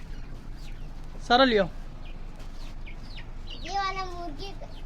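Chickens and chicks in a village yard at feeding time, a couple of sharp squawking calls standing out over a quiet background while a person speaks briefly.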